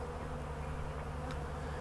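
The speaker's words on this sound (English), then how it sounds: "and the bees come help themselves" Honeybees buzz steadily around a feeding tote of sugar syrup with 2-inch holes drilled around it, a continuous close, even hum with no talk.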